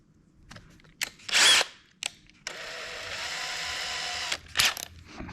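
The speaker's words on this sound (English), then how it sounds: "we're going to wind up doing an 1/8 inch drill bit into the leg" A power drill with a 1/8 inch bit bores into a wooden leg for a phone stand, starting with short trigger bursts, then a steady whine of a few seconds and a final brief spin, close and without talk.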